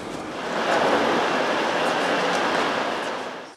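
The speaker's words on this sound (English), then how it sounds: "So we're on the train down to London now" A passenger train heading down to London rumbles steadily from inside the carriage, a broad continuous roar of wheels and rails that swells in and holds at a loud, even level before briefly dropping at the end.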